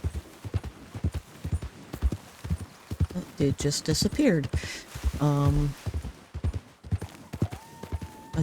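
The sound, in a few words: war horse hoofbeats in video game Red Dead Redemption 2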